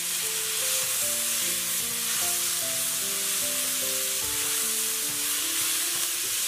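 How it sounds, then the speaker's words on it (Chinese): Celery, carrot and mushrooms stir-fried in a wok give a steady, close sizzle and crackle with light stirring scrapes throughout, while faint background music plays underneath. "炒好之后，把芹菜和红萝卜倒入里面，"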